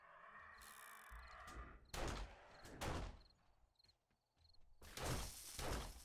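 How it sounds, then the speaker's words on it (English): Sharp gunfire bursts from a shooting zombie vulture in modded 7 Days to Die at a prison, several loud cracks spaced over a few seconds with shattering debris, over a steady low background hum. "We got shot at by the zombie, the vulture."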